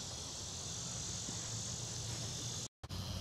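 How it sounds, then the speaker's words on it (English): A continuous high-pitched drone of cicadas buzzing at Silver Springs, Florida, holds steady throughout with a brief cut near the end, no talking. "Cicadas are sure having a go at it today. Loud, aren't they?"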